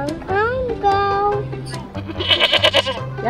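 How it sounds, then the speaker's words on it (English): Goats bleat repeatedly in wavering, nasal cries, some close and loud, with a higher burst of several overlapping bleats near the end; a voice may be mixed in. "G is for goat."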